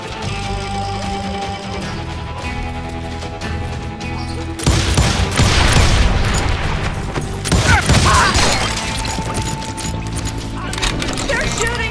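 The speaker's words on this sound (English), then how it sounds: "They're shooting in the street!" Gunfire in the street in Call of Juarez: Gunslinger, a quieter stretch giving way to loud bursts of rapid shots and crashing impacts, with voices shouting under the shooting.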